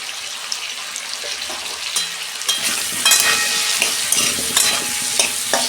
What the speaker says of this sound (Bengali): আলুগুলো আমি একটু লাল লাল করে 2 মিনিট ভেজে নেব।